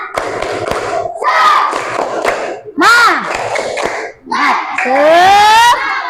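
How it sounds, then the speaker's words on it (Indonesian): Fourth-grade children in a classroom perform a rhythmic clapping chant, loud rhythmic claps mixed with energetic shouted syllables in several bursts, close and lively. "Biar kita lebih semangat lagi belajarnya, tepuk semangat ya."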